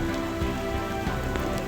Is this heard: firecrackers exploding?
no